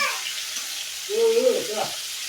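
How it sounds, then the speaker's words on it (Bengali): Low, steady sizzling of baim (eel) fish frying lightly in a pan, with a soft scraping stir partway through; no talking. "বাইম মাছটা উল্টিয়ে দিই, বেশি ভাজবো না, হালকা করে ভেজে নিব"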